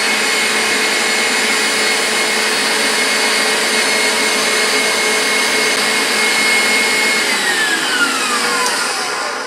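Electric mixer whips egg whites to a foam, a loud, steady high whine with a constant motor drone, the pitch dipping slightly near the end as the beaters slow.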